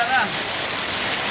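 Heavy rain pours in Salalah, Oman, a steady dense hiss of drops hitting surfaces, loud and continuous throughout.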